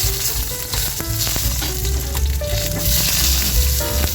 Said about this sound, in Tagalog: Ito na guys, yung ating talong na ipiprito